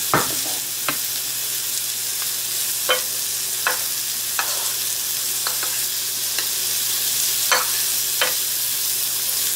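Mushrooms sizzle steadily in a hot pan while a spoon strikes and scrapes the metal at irregular intervals, a dozen or so sharp clicks over a continuous close hiss.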